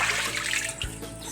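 Water splashes and trickles steadily while Badik is being bathed, a close, continuous wet spatter with a few heavier splashes.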